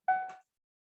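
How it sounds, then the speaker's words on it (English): A classroom school bell sounds as one short, clear two-tone electronic chime lasting under half a second, with no talk over it. "That was the bell."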